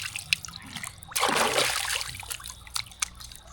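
Water is poured over a person bathing in the morning in a rural Lao village: a loud, close splash rushes down and fades into dribbling trickles and drips, with faint voices in the background.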